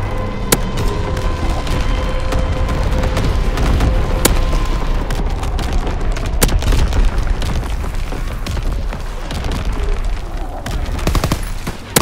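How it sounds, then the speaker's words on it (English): Artillery barrage in Call of Duty: WWII, a continuous loud stream of booming explosions and sharp cracking impacts, dense and overlapping for the whole stretch, with occasional louder close blasts punctuating the rumble. "Artillery ready for orders. Awaiting fire zone confirmation. Firing for full effect."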